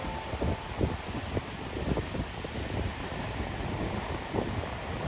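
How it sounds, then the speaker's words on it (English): Gullfoss waterfall in Iceland, fed by cold glacial water from Langjökull, gives a steady dense roar that fills the air without pause, with faint irregular splashes inside the constant rush. "the water here comes straight from the Langjökull Glacier, so it's cold, fast, and loud all year round"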